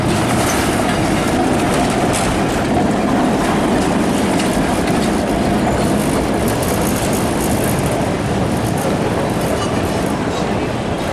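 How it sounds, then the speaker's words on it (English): Trams rolling past on an Italian street, modern and original vintage cars, a steady loud rumble with rail clatter and faint wheel squeal lasting the whole stretch. "I've got a modern tram and an example of one of the original ones right here."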